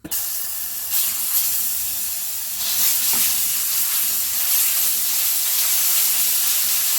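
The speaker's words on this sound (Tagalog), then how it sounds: "Kailangan lutuin po natin yung ating minced garlic." Loud, steady sizzle of minced garlic and pork frying in hot cooking oil, a broad continuous hiss close up that swells slightly a few times without any pause.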